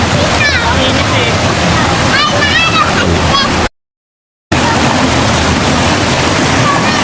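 Steady broadband rush of a waterfall at Palugtok Falls in Sta. Magdalena, Sorsogon, loud and continuous, with children's voices and chatter faintly mixed in and a short silent gap midway.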